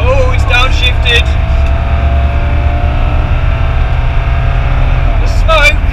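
A London taxi's engine drones steadily as the cab accelerates along the road, a loud continuous low rumble with faint voices briefly over it at the start and end.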